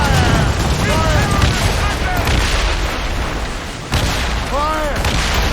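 Heavy ship cannons fire during a naval battle in Assassin's Creed Rogue, a constant thick roar of booms and rumbling with sharper blasts partway through and near the end, while crew voices shout over the din.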